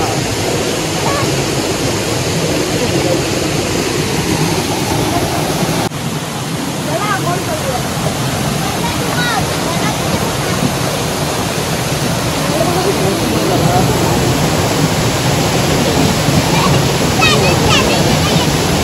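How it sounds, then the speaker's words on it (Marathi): Loud, steady rushing roar of a natural waterfall in the Konkan countryside near a temple, water pouring down continuously, with a voice talking over it. "नॅचरल धबधबा, वरून निसर्गाच्या गर्भातून, निसर्गाच्या पोटातून पाण्याचा प्रवाह आलेला आहे बघा."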